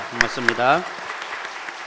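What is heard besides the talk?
applause in church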